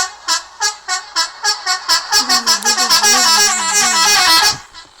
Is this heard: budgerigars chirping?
no